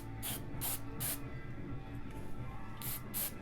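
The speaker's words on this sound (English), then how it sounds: "Now let's spray this down a little bit." Cleaner sprays inside a Pioneer SX535 receiver in short hissing bursts, three in a steady rhythm, a pause, then three more, close up over a low steady hum.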